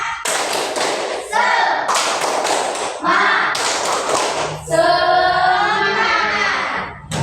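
Schoolchildren repeat a clapping chant in class, with loud rhythmic hand claps and thumps interleaved with a group of young voices chanting, close and energetic.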